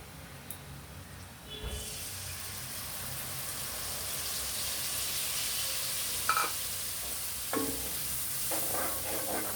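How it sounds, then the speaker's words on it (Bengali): Spice paste is poured into a hot pan and fries with a steady, close hiss of sizzling that builds and persists, broken by a few scraping stirs and no talking. "এখন ওটা ওখানে ঢেলে দিব, ঢেলে দিয়ে মশলাটা ভালো করে কষিয়ে নেব।"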